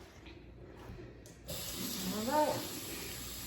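A faucet bursts on midway and runs in a steady hiss while hair is rinsed under the tap, with a brief spoken remark over the flowing water.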